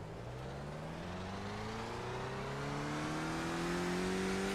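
A race car engine in a racing video game at Tsukuba revs up steadily, its climbing, whining pitch rising across several gears at a constant close, loud level.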